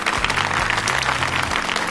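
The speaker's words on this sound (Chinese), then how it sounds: "来，让我们把掌声献给这五位优秀的设计师" Audience applause for five fashion designers at a runway show, a thick, continuous wash of clapping from a crowd, loud and sustained with a low hum underneath.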